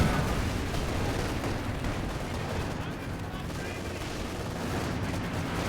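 Battle sounds from the strategy game Company of Heroes 2 fill the scene, with continuous gunfire, machine-gun bursts and artillery blasts forming a dense, moderately quiet rumble.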